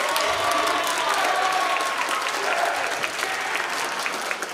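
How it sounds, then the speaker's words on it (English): A school assembly audience claps steadily in a dense, continuous wash of applause, with a few cheers and faint voices mixed in throughout. "Everybody give a good round of applause for them."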